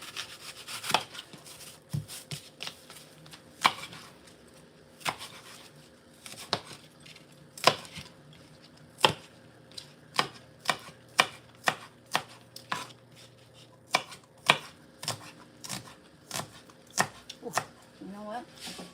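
Onions are chopped with a knife in a home kitchen, with sharp, irregular blade strikes on the board that speed up into quick bursts, over a quiet background and occasional soft voice.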